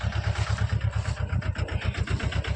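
A nearby tractor engine chugs at idle with a rapid, even low-pitched thumping rhythm, running steadily and fairly loud with no voices.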